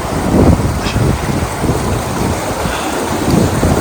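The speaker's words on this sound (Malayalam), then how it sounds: "മേലീന്ന് ഗ്ലേഷ്യറിൽ നിന്ന് വരുന്ന വെള്ളമാണ് ഇത്" Loud, rushing glacier meltwater roars continuously and close by on the Everest Base Camp trek, a broad churning wash of a fast stream with no voices.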